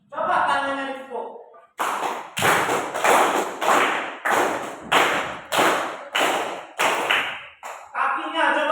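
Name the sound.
hands being slapped together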